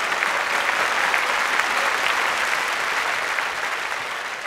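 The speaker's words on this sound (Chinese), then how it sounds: "大家掌声欢迎。" An audience at a school event claps to welcome a magic act performer, a dense, even burst of applause from many hands that holds steady throughout and trails off slightly at the end.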